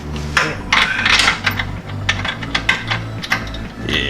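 Bolts being fastened into a vehicle's cross member during transfer case and mount work, heard as rapid close metallic ratcheting and clicking in bursts with a few knocks, fairly loud, no voices.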